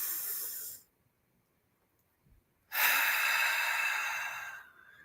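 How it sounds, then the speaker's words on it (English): Two nasal breaths drawn in deeply, the first lasting under a second and the second a long, steady hissing inhale of about two seconds, close and fairly loud with a quiet pause between them. "take some deep breaths in through your nose"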